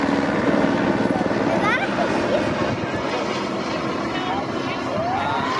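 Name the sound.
Baltimore City Police AS350 helicopter siren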